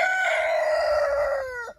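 A rooster crows among chickens, one long loud drawn-out cock-a-doodle-doo close by, standing alone with no talking.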